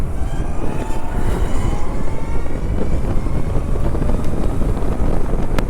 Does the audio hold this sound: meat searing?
no